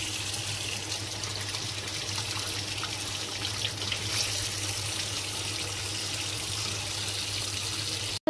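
Tap water runs steadily into a sink while eyeliner is washed off, a constant close hiss and splash that continues without pause before cutting off abruptly at the end.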